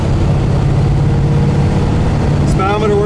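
A 1937 Ford Coupe with a three-speed gearbox drives down the road, its engine and road rumble loud and steady throughout, with a brief higher whine near the end.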